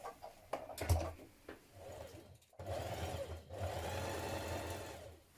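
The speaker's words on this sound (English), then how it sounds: "Now turn your collar through and we're going to top stitch on the edge" A sewing machine topstitches along the edge of a shirt collar, starting with a few short stop-start bursts, then settling into two longer steady runs of close, mechanical whirring with a brief pause between.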